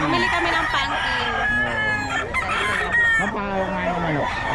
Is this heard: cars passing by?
no